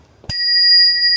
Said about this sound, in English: it is a real brass bell